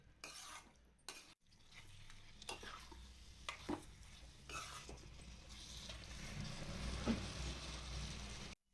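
Prawns are sautéed in a pan with oil, a steady sizzle of frying under repeated scraping and clinking strokes of a spoon stirring them, close and with no one talking.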